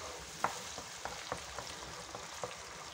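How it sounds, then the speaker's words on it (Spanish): Tomato pulp frying over high heat in a pot, a steady close sizzle broken by occasional soft clicks and stirring taps. "Ahora vamos aquí a freír la carne del tomate, ¿eh? Bien frita."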